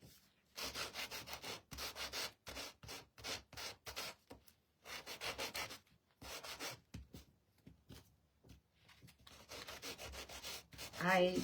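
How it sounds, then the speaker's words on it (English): A Gator hand sander scrubs over cardboard pieces to distress them, giving close rhythmic bursts of rough rubbing and scraping with short pauses between strokes. "I'm going to take the same gator sander and I'm going to sand and get some distressing on my pieces"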